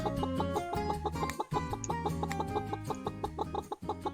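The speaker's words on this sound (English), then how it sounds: "I can hear the chickens." Chickens in the video game Pumpkin Days cluck repeatedly in a steady rhythmic chatter over a constant tonal backdrop, layered with game-like synthetic sound.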